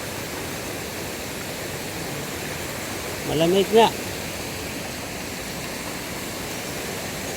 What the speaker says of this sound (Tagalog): Ayan guys, tawid tayo ng malaking suba eh.